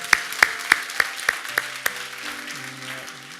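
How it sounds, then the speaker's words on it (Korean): A few distinct claps of thanks from a church congregation, evenly spaced and fading out within two seconds, followed by soft sustained organ or keyboard tones. "우리 다시 한번 하나님 앞에 감사의 박수 올려드리도록 하겠습니다."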